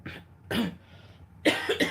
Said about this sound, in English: I'm coughing all over the oranges.